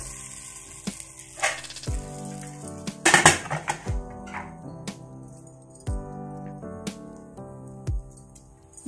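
A pizza base set into a hot, oiled pressure cooker on a gas stove, with close metallic clanks and knocks of the pot and lid at irregular intervals and a soft sizzle beneath.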